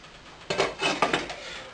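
A metal lid set onto a pot of simmering crab meat salmorejo, giving a few close clattering clanks of metal on metal in quick succession, with no talking.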